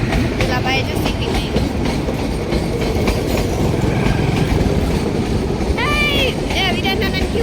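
A train rolls past in a village, its steady clattering rumble running throughout, with brief squealing tones near the end and voices speaking faintly underneath.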